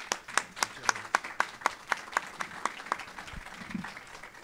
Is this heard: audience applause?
yes